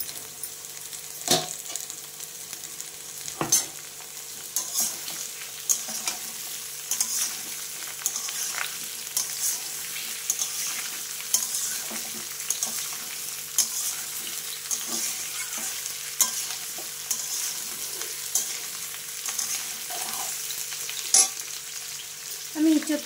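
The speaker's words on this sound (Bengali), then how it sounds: "আমি ইঁচড়টা দিয়ে একটু ভেজে নেব" Green jackfruit pieces frying in a pan with onions, a long steady sizzle and crackle punctuated by a few loud spatula knocks and scrapes, close up with no talking.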